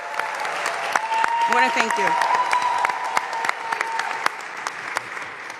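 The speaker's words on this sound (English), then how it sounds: "Let's give them a round of applause." Sustained audience applause at the opening of a recreation center, a dense steady wash of clapping with a few sharper close claps, while someone speaks briefly over it partway through.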